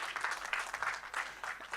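Audience applause at a live panel event on corporate governance of state-owned entities in Ghana, welcoming a management consultant to the panel; steady, fairly soft clapping from a modest crowd that runs without a break.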